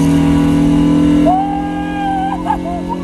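A Honda VTEC engine revs hard and loud while the car is driven, just after a new short shifter has been fitted. A steady high drone drops and shifts pitch partway through, and another rise follows near the end.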